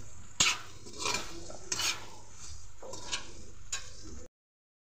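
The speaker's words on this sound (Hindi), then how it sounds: "हम थोड़ा सा आमचूर पाउडर डाल देंगे, थोड़ा गरम मसाला डाल देंगे इसमें। इसे डालकर हम अच्छे से मिक्स कर देंगे।" Kale chhole being stirred and mixed with amchur powder and garam masala in a pan, giving repeated close scraping and clattering strokes with a soft sizzle beneath, and no talking.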